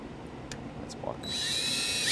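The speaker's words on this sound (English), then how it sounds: "we're going to drill a 3/32 pilot hole in this spot" A couple of light knocks and clicks, then a power drill spins up and whines steadily, boring a 3/32-inch pilot hole in metal on a 2013 Dodge Journey, close by.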